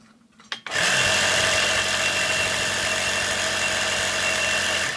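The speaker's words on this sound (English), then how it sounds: "If I start a compressor on this side" A compressor kicks on abruptly and then runs at a steady, loud, continuous hum and whir with no change, and no one talks over it.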